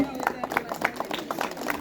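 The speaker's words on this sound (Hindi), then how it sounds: "जोरदार तालियां उनके लिए एक बार पूरा।" An audience applauds at a school Independence Day program, brief scattered claps sounding fairly faint with crowd murmur and a voice talking over them.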